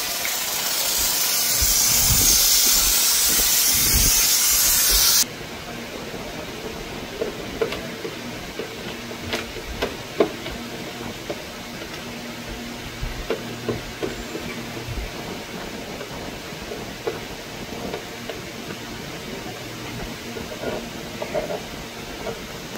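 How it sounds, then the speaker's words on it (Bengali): A motorbike being washed with a pressurized water spray, a loud steady hiss for the first few seconds, then a quieter background with scattered clicks and drips. "তো আগে ওয়াশ করে নেওয়া হচ্ছে ভালো করে, যাতে কোনো নোংরা ডার্ট ফাট কিছু না থাকে।"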